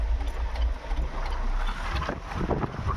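A car engine rumbles low and steady as the accelerator is pressed during a driving lesson, with wind buffeting the microphone.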